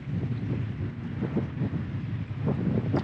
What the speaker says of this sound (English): This wind is crazy, y'all.